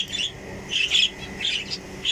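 Lovebirds squabbling in a pet bird farm aviary, giving repeated shrill, high chirps and squawks in short bursts, fairly close and fairly loud.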